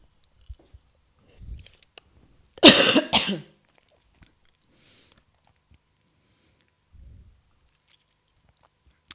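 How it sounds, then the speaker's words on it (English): A person coughs in one short, loud burst of several harsh coughs near the middle, with faint mouth noises and small sounds before and after in an otherwise quiet room. "I'm starting to cough a little bit"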